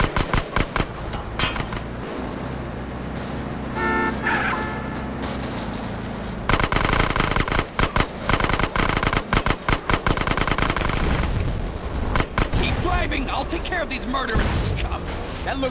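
Heavy gunfire in a GTA game: a dense machine-gun rattle runs nearly the whole time, loud and close, with rapid bursts and crashes and game voices talking over it.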